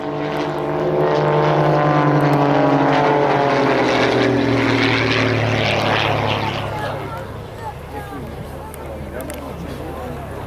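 A propeller aerobatic airplane roars continuously overhead at an air show, its engine droning loud and rising and falling in pitch as it maneuvers, while a commentator talks over it.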